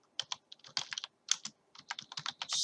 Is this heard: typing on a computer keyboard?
yes